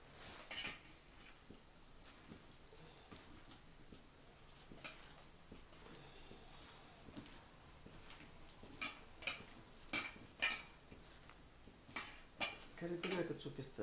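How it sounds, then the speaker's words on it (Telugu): Grated jaggery being mixed for coconut roti, heard as faint, steady scraping and stirring with light utensil clicks that grow a little sharper toward the end, with no speech. "కొంచెం బెల్లం మెత్తగా కలపాలి కదా, గడ్డలు లేకుండా"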